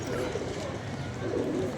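Pigeons coo softly under a steady, fairly loud background murmur, with people talking nearby.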